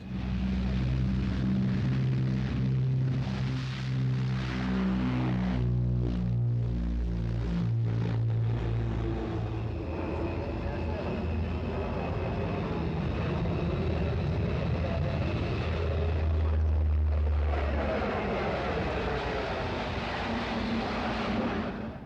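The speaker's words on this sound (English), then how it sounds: "Canada's bulky de Havilland Buffalo can heave itself rapidly into the air with extraordinary agility for its size." A bulky de Havilland Buffalo transport plane taking off at the 1976 Farnborough air show, a loud, steady turboprop roar with throbbing low engine tones that swell and shift throughout, no voices heard.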